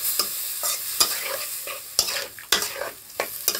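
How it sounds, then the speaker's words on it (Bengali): Spice paste for a fermented dried-fish curry being stirred and fried in a pan: a run of sharp scraping strokes, about two per second, over a steady close sizzle. "এবার আমি মশলাটা একটু কষে নিই"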